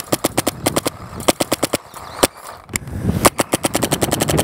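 Paintball marker firing rapid shots during a field test, a dense series of loud, sharp cracks in quick irregular bursts with brief pauses between groups.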